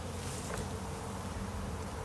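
A dense, steady buzzing of many honey bees from a package being hived fills the clip, close and continuous with no talking.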